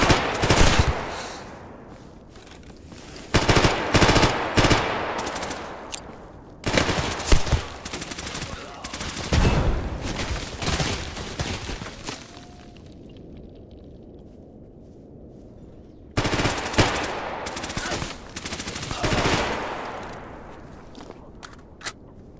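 Gunfire in the game Stalker Gamma: repeated loud, close bursts of rapid automatic fire, separated by quieter pauses and short gaps of near silence.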